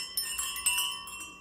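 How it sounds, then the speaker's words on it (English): Small bells on a holiday tassel garland jingle in a few light, ringing shakes close by, their bright tones hanging briefly between jostles. "It's got these bells on it."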